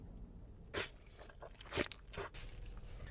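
Close-up crunching bites and chewing of a 7th Street Burger burger, with about four distinct crisp crunches spread over a few seconds against a quiet background and no talking.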